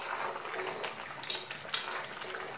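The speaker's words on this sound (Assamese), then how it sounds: "উতলি আছে" Spinach and fish curry bubbling in a covered pot, a steady close hiss of simmering liquid with a few sharper pops and spits scattered through it.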